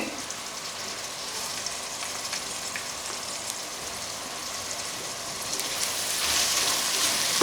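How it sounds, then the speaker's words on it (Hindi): Ginger-garlic paste frying over a low flame in a pan for bottle gourd sabzi gives off a dense, rain-like hiss that grows a little louder toward the end, with no one talking. "ये मैंने लहसुन अदरक का पेस्ट अब इसके अंदर डालूँगी।"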